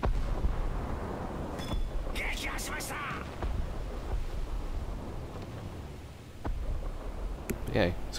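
Muffled rumbling blasts from a torpedo strike in a naval battle in War Thunder, with deep artillery-like booms over wind-like noise and a few faint sharper cracks, and a voice talking through part of it.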